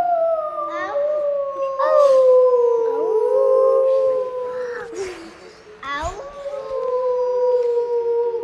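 A voice imitates a wolf howl with long, gliding wails that rise and fall, close and fairly loud, broken by short babbling sounds.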